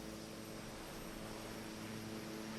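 Helicopter engine and rotor in an Xbox video game tour of Easter Island, a steady dense whirring drone with low pulsing, heard alone and unbroken throughout.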